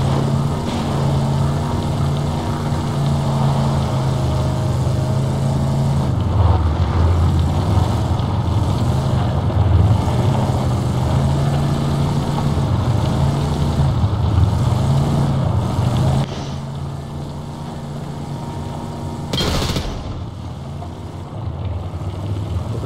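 An aircraft coming in to land in the video game Ring of Elysium, with a sustained droning engine whose pitch wavers and shifts, loud and steady, dropping in level near the end, with a brief sharp burst of noise.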